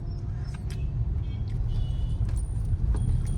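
An automatic car drives along and speeds up, giving a low, steady engine and road rumble heard from inside with faint rattles over it, moderately loud and continuous, with no talk.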